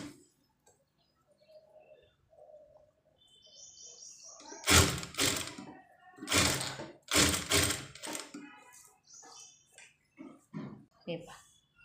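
A sewing machine stitches old saree fabric for a dress in short bursts of rapid mechanical clatter, separated by pauses, while someone talks between and over the runs.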